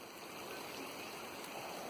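Rainwater from Hurricane Lane flows into a garden flower bed, a soft continuous stream-like trickle and wash that stays faint and steady throughout, with no talking.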